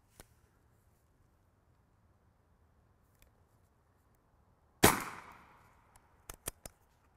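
A single sharp, loud shot from an AirForce TalonP suppressed air rifle cracks out after a quiet stretch and tails off briefly, followed by a few quick metallic clicks.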